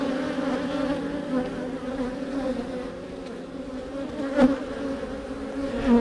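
Bees buzz steadily in an opened beehive nuc box, a dense, continuous hum close at hand with a brief louder swell midway.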